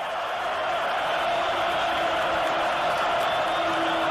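A basketball arena crowd roars after a game-tying layup at a USC versus Kentucky men's college game, a loud, sustained broadband wash of cheering with no break.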